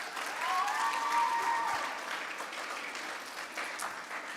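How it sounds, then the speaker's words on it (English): An audience claps at a kids camp gathering, steady moderate applause lasting several seconds, with a thin whistle-like tone over the opening part before the clapping eases slightly. "Give him a round of applause."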